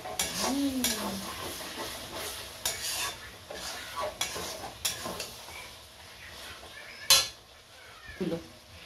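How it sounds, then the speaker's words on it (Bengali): Pots, dishes and cutlery being washed in a home kitchen after cooking chicken curry, with scattered clinks, scrapes and splashes coming close and fairly quiet, plus one sharper clatter near the end. "দেখো ততক্ষণ আমি বাসনগুলো ধুয়ে ফেলি"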